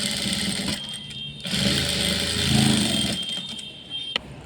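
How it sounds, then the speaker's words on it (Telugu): A sewing machine runs in close, loud bursts, stitching the top seam of a fabric hanging, whirring steadily with brief pauses between runs. "అది మళ్ళీ తిరిగేసుకుని పై కుట్టేసేస్తున్నారు."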